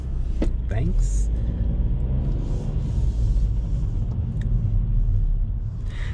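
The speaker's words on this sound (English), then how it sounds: "when I hear the noise of the other cars and also of the road" Steady low road rumble and tyre noise fill the cabin of a moving 2021 Kia Stonic 1.0 T-GDI, with other traffic faintly passing.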